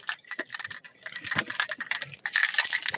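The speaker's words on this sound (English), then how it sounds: "My keys." A bunch of keys jangles and clinks close up in a quick, irregular metallic rattle that lasts about three seconds, loud and alone with no talking over it.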